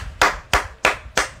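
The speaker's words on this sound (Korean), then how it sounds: "박수 한번 칩시다" Four sharp hand claps, evenly spaced and close, each ringing out alone with no talk, during a live-streamed mukbang meal of Wonhalmeoni bossam.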